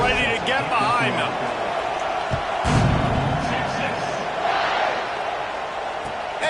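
A football stadium crowd roars steadily through the kickoff, a dense, continuous wall of cheering with whoops and shouts, while a commentator talks over the noise.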